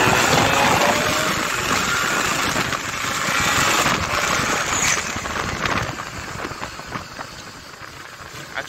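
A Kawasaki Ninja RR two-stroke motorcycle engine runs close by, a buzzy continuous drone that holds steady and then eases off slightly toward the end, with no talk.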